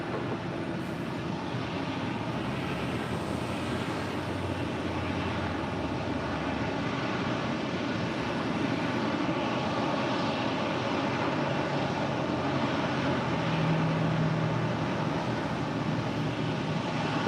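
Jet airliners at LAX airport roar in a steady, loud, broadband wash of engine noise as they taxi near the runways, continuous and unbroken, with no voices over it.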